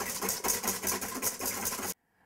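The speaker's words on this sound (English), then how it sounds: "So we're going to go ahead and start whisking." Heavy whipping cream, 35% fat, is whisked in a cold bowl, most likely with an electric mixer. A steady motor-like whir with a slight pulsing rhythm runs for about two seconds, then cuts off abruptly. No voices are heard.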